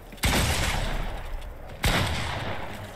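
Two loud bursts of gunfire in Fortnite, each a sharp onset followed by a ringing, decaying tail, about a second and a half apart.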